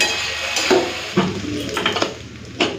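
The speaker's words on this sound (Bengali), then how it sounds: "আর এদিকে তো ঢ্যাঁড়শটা ভাজা হচ্ছে" Okra fries in a pan while a spatula stirs it, with scraping and metallic clatter over a steady sizzle, close and fairly loud.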